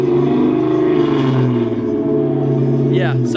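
A Ford Mustang GT's 4.6-liter two-valve V8 rumbles steadily and loud at close range, holding a deep, even burble for a few seconds with a slight rise near the end.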